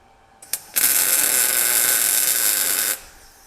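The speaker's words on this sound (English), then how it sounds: "So I'm gonna go ahead and weld this in. I'm gonna burn a quick tack to hold it in place." A single quick tack weld on a roll cage for a D21 pickup makes a bright, crackling hiss. It sounds near, flares up after a couple of brief sparks and holds steady for about two seconds before cutting off.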